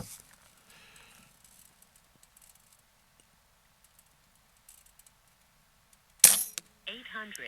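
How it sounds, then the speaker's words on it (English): A single sharp crack from a Benjamin Gunnar .25 air rifle fired at an outdoor 50-yard range rings out after several seconds of near silence, followed by a short tonal vocal sound. "We'll shoot 2 more mags and then wrap it up."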